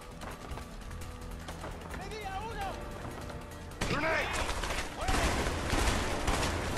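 Gunfire in the video game A Way Out, dense bursts of shots running under game noise and voices, growing louder and busier in the second half.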